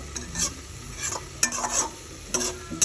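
Chopped banana flower stirred in hot oil with onion, garlic, dried chili and panch phoron, a close steady sizzle broken by several sharp scrapes of the spoon against the pan.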